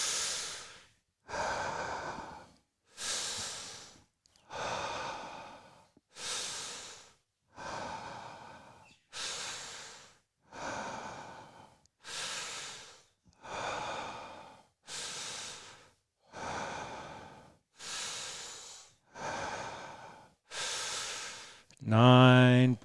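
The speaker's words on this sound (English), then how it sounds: "Breathing in for 10." Deep, rhythmic mouth breathing in a breathwork session, about a dozen loud airy breaths in steady succession with brief gaps between them, close to the listener, ending in a deeper voiced sound.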